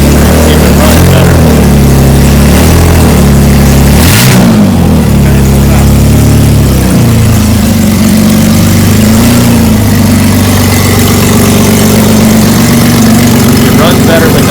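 A Chevrolet Malibu engine with its O2 sensors removed cranks, idles and revs in a few uneven bursts before settling into a loud, steady idle, with little else over it.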